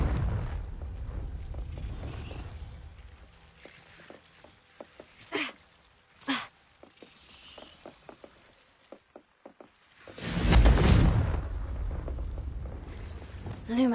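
In the game Hogwarts Legacy, a Confringo blasting curse erupts in one loud, booming explosion late on. It follows a stretch of quieter knocks and scattered clicks, then a rumbling tail fades out.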